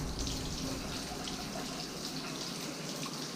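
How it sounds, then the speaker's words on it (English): Hot water runs steadily from a kitchen tap, a continuous broadband gush of flowing water hitting a sink, close and even throughout with no talking. "So I'm going to turn this tap on."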